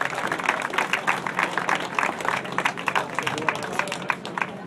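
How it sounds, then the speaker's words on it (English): Audience at a fishing tournament weigh-in applauding, a steady moderate round of clapping with scattered individual claps, fairly close and without talk over it. "we'll give them all a big round of applause"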